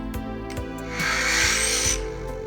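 DJI FPV drone motors spinning up: a whirring, grinding mechanical whine that swells in the middle, with a few sharp ticks, close and fairly loud.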